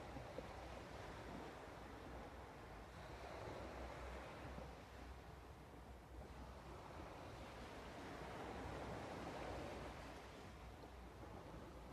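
Ocean waves wash continuously onto a shore, a soft, distant, steady surf with gentle swells and a light wind hiss, no voices present.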